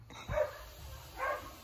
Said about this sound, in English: The children screaming, dogs barking.